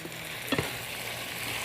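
Cauliflower rice sizzles steadily in a hot pan, a soft continuous frying hiss with a brief stir-like clatter near the middle, quiet and without voices.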